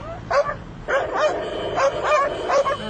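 An Arabian Saluki dog gives a string of sharp barks and yips, about six close, loud bursts in uneven rhythm.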